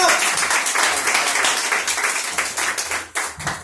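Comedy club audience at a free Sunday night comedy show in a Portland, Maine tavern breaks into steady applause and clapping for an arriving comedian, loud and continuous with a few cheers mixed in.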